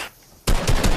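Minigun fire in a video game starts abruptly after a quiet moment, a loud, close, continuous stream of rapid shots.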